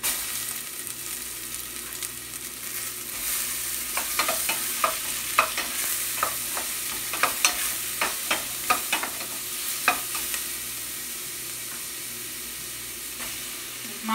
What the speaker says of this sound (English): Start putting the mushrooms in.